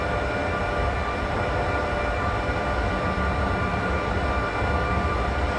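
A BR101 electric locomotive runs in Train Simulator 2016 on the Berlin to Leipzig route, giving a steady, loud, unbroken rolling drone of motor and wheels with no voices over it.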